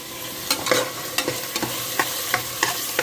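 Ginger and garlic fry in hot oil for meal maker pulao, a continuous close sizzle broken by regular sharp scrapes and taps of a spoon stirring against the pan, with no talking.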